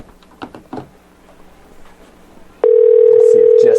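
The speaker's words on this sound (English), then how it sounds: "Let's see if Jesse answers the phone." A telephone dial tone starts abruptly partway through and holds steady and loud to the end as a call is placed, after a stretch of quiet background sounds and movement.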